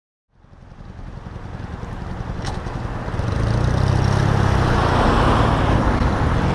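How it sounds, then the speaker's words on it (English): Traffic on a busy street in Lexington, Massachusetts rises from silence into a steady, loud roadway roar as cars buzz past close by, building louder midway and holding there with no talking. "a busy street in Lexington, Massachusetts, and as you can see from this sign, this is a very narrow path for a bicycle to ride in, and dangerous, with the granite curb and the cars buzzing by"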